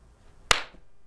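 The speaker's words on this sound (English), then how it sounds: "that's how we're going to notify who got the question first, by clapping" A single sharp hand clap, used to buzz in during a classroom quiz game, rings out loud and close in an otherwise quiet room.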